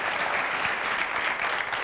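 Studio audience on the 1998 Turkish television program İbo Show breaks into steady, even applause that fills the whole stretch at a constant loudness, with no voices standing out.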